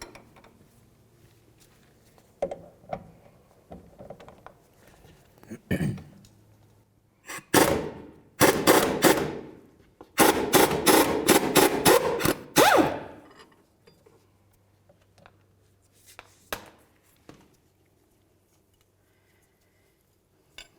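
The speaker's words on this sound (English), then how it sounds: "hold on to one side with a wrench and the other side with our air gun" Air impact wrench loosening a front lower control arm bolt on a 2000-2005 Buick LeSabre, loud rapid hammering bursts in several runs with short pauses, close by, between quieter clicks and handling.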